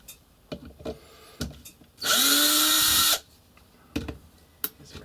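A powered screwdriver backs machine screws out of a Classic Army Scarab airsoft gun, giving one loud, steady whir of about a second, set between faint clicks and handling taps.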